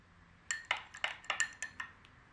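Homemade medieval iron gall ink, purplish black, is stirred in a container, giving a quick series of about eight bright clinks and taps that come close together over two seconds with nothing in between them.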